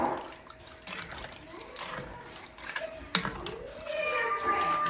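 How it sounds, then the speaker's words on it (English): Water splashes and runs steadily into a pot of uncooked pasta, with a gurgling stream and a small clink, moderately quiet and close. "put enough water in so that it just covers everything"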